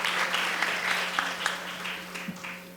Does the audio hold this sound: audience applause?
yes